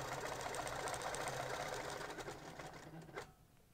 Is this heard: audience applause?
no